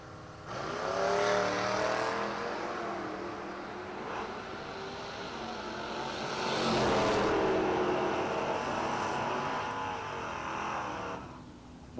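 Two drag racing cars, a little Ford and a Mopar, accelerating hard down the strip, a long loud engine roar that swells, eases and swells again before cutting off, with no voices over it.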